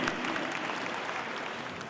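Concert audience applause at a jubilee celebration for a Buryat music group, a dense sustained wash of clapping that tapers slightly toward the end.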